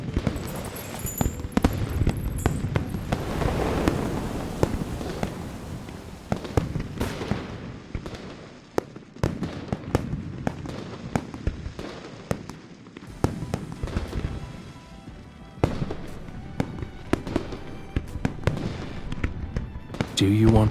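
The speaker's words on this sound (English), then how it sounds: "Do you want to set off fireworks in Hongning City?" Fireworks going off in Hongning City within a romance video game, a dense run of crackling pops and bangs that keeps up for the whole stretch, loud and near with bursts of scattered sharp reports.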